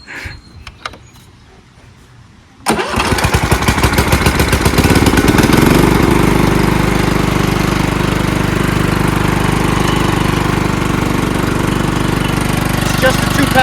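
A rebuilt Kohler Command engine on a John Deere LT160 lawn tractor cranks after a quiet start, then catches and settles into a loud, steady, close-up running drone for the rest of the clip.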